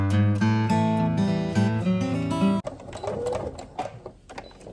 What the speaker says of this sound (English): So I'm gonna do a stitch and then I'm gonna do a little back stitch and then we're just gonna go all the way around